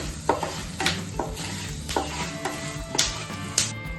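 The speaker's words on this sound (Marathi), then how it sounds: "चिमूटभर हिंगट घालूया आणि हळद ऍड करूया आणि छानपैकी याला मिक्स करून घ्यायचं" Asafoetida and turmeric stirred into hot oil for lemon rice: a steady close sizzle broken by repeated scraping strokes of a spoon against the pan, with no talking.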